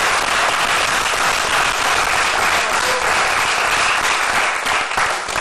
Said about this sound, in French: Est-ce qu'on peut applaudir très fort pour Bichulux Mode?